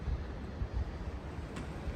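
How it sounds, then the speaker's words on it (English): Wind gusting outdoors around a farm yard, a low rumbling buffet against the microphone that rises and falls unevenly, with no talk over it. "A little bit windy today,"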